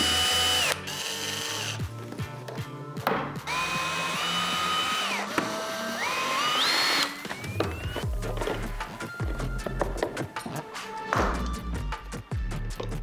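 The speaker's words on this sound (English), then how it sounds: "Alright, there's screws here. Let's get a screwdriver." A powered screwdriver backs screws out of a vacuum cleaner housing: repeated whirring runs that rise in pitch, with ratcheting clicks and plastic knocks between them, close by and with no talking.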